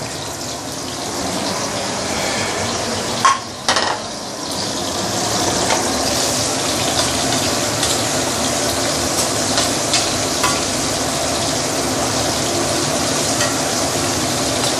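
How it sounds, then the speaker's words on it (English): Pork pieces deep frying in oil for sweet and sour pork with lychee, a dense continuous bubbling sizzle close up with occasional clinks of stirring, no talking. "using the same way to fry the rest of the pork as well"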